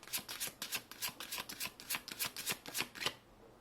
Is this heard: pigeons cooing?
no